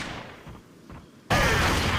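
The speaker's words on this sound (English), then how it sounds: "let's shoot that guy when he lifts up there" A gunshot goes off in Resident Evil 4 after a quieter stretch of game ambience. It hits abruptly as a loud burst, followed by sustained noisy roar.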